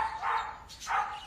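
A dog barks twice in a movie scene, two moderately faint yelps about half a second apart over a low background hum.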